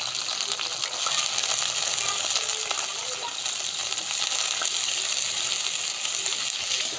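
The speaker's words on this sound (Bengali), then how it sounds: "পেঁয়াজটা আমরা আগে ভাজে নেব" Chopped onion frying in hot oil in a wok, a dense, loud, steady sizzle and crackle from start to finish, with no voices.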